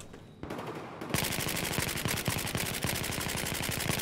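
Sustained automatic machine gun fire in a Battlefield 4 multiplayer match, a rapid, even stream of loud shots after a brief quieter lead-in, continuing without pause.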